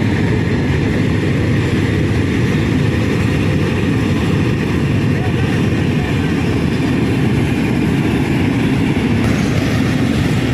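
A freight train rumbles past nearby in Chonburi, Thailand, in a continuous low roar, steady and loud throughout with no pauses.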